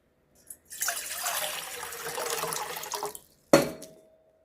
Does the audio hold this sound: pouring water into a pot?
yes